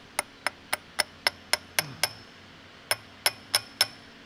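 Gear parts clicking into place inside a restored 1943 StuG III ZF gearbox during reassembly, a series of sharp, evenly spaced metallic clicks in two bursts, close and distinct, no talking.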